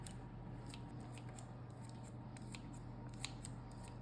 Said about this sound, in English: Let's cut up some sausage in here.